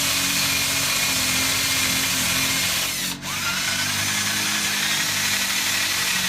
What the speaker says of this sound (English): This is just a cheapo Harbor Freight polishing setup.